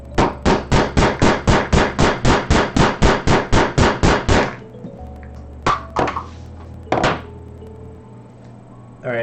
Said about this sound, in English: Sorry, a little bit of hammering.